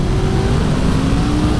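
A motorcycle engine, a Honda VFR750F or a Triumph Sprint 955i ST, revving hard toward 11,500 RPM, giving a loud, steady, close high-pitched drone with no pauses.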